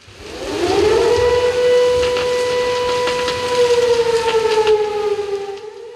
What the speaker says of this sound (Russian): Сирена означает минутную готовность.